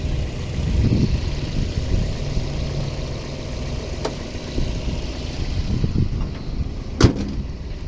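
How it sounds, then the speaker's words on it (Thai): The hood of a 2003 Toyota Vios 1.5 S, ivory coloured, slams shut once with a sharp bang near the end, after a stretch of low idling engine hum, with no talk. "ผมจะขออนุญาตปิดฝากระโปรงนะครับ"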